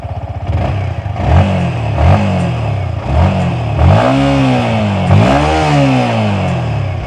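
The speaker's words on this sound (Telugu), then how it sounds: "ఒకసారి ఇంజిన్ ఆన్ చేసి బీటింగ్ అయితే విన్నాం." Yamaha XSR 155 retro motorcycle engine idling and being revved in several rising throttle blips, close and loud with no talk.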